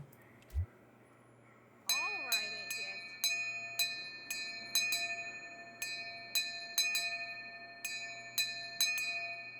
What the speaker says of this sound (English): I'm gonna ring a bell at him